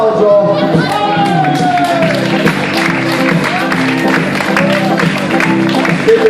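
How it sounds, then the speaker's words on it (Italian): Crowd at an August village festival in Montemitro during tarantella dancing, with continuous clapping and cheering throughout, voices shouting over the applause and music. "Fammi un applauso!"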